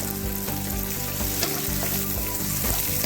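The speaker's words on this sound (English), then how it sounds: "Now just stir the vegetables." Vegetables stir-frying in a pan for mushroom noodles, a steady close sizzle broken by regular scraping knocks of a utensil as the vegetables are tossed, with no talking.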